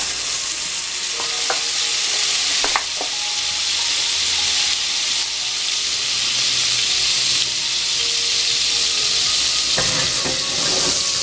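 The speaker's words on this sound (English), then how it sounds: "now that my pan is hot, I'm going to be using my Smart Balance Organics butter" Steady, bright sizzling of butter in a hot pan, with a few clinks from a utensil and a louder burst of frying near the end.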